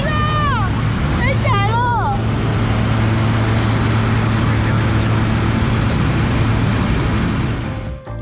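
A helicopter lifting off and flying on a glacier tour in New Zealand, its engine and rotors roaring as a loud, steady drone throughout, with excited voices and a few high whistling tones over it.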